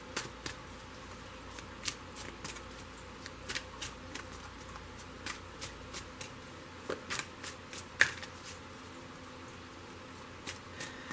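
Tarot cards are shuffled by hand in quick, irregular riffling bursts, soft and close in a quiet room, with no talk.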